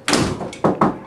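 A house front door closes with a solid thud, followed by a couple of further knocks or bumps close by.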